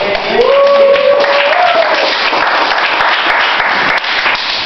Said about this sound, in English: Another round of applause for that guy.